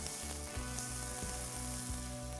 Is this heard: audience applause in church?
no